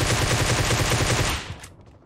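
Fireworks going off in a dense, loud volley of rapid cracking bangs, like rattling gunfire, that thins out and fades after a second or so.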